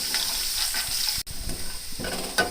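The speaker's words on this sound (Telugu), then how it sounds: "ఎల్లిపాయలు కూడా వేసి కొంచెం లైట్ బ్రౌన్ కలర్ వచ్చే వరకు ఈ విధంగా ఫ్రై చేద్దాము" Crushed garlic and dried red chillies fry in hot oil for a ripe red chilli pickle tempering, giving a steady close sizzle with scraping stirring strokes and a brief cut near the middle.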